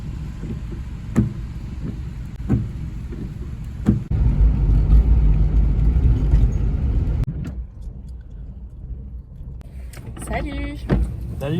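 A repaired passenger car runs with a low engine rumble and road noise from inside the cabin, rising louder for a few seconds before easing off, with clicks and brief voices near the end.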